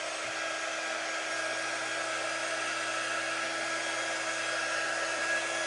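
Hair dryer blowing hot air to dry paint on a craft pie, a loud, steady whirring hiss that runs unbroken throughout.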